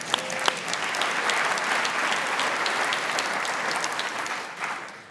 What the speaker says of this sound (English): we should clap for the weather